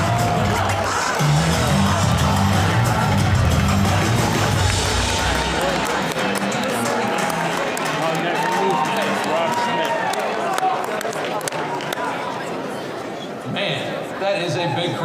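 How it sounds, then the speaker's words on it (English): A big crowd at CPAC roars and cheers continuously, loud at first and then settling into a dense, sustained babble of voices and whoops, with speech mixed in. "That is a big crowd."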